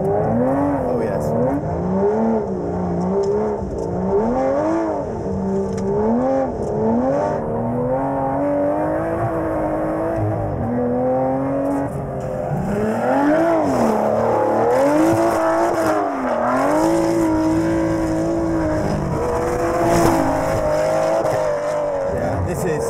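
An Aston Martin Vantage GT12 engine revs hard on track, rising and falling through gear changes and cornering, loud and close, with someone talking over it at times.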